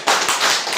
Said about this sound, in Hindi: तो मैं सर के लिए एक जोरदार ताली चाहता हूँ।